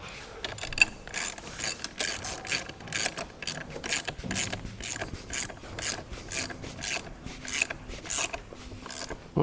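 Ratchet wrench tightening a 17mm nut on a 14mm bar bolt of a 110cc semi-auto pit bike, a steady series of close, rapid clicking strokes in short bursts, no talk.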